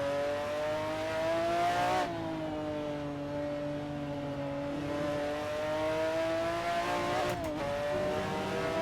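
McLaren F1 GTR race car in the Assetto Corsa sim at the Nürburgring, a steady loud engine drone that dips sharply as the car is pitched into a corner near the two-second mark, then holds and shifts again later.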